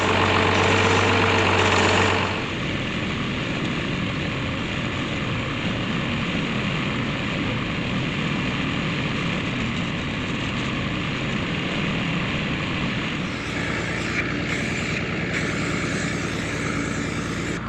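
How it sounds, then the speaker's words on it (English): The diesel engine of a big tractor hauling dirt to a pile at a hay barn build runs loudly and steadily, with a brief shift in tone at the start and near the end. "Gavin is going to be in the big tractor, and he is gonna be running the dirt that Petey mines out and dumping it over on the pile."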